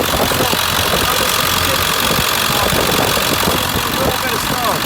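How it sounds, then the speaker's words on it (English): A truck engine idles with a steady, loud mechanical rumble and slight knocking, holding even throughout at close range. "Let's start the truck"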